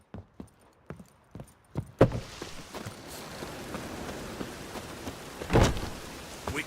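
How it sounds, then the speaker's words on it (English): Rain falls in a Witcher 3 game scene, first a few scattered taps, then a dense steady downpour washing over the surface, with a louder gusting swell near the end; no talk. "Witches have conjured rain again."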